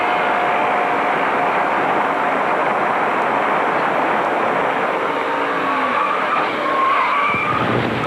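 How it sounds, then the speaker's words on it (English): A NASCAR race car skids and slides against the wall on fire, tires scrubbing under a loud sustained engine roar, with squealing sweeps and a sudden thump near the end. "Musgrave's car sliding up against the wall, flames coming from it as he comes across the start-finish line"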